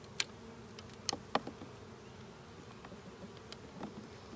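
Honey bees buzz faintly around an open hive during an inspection, a low steady hum with a few brief close passes and clicks.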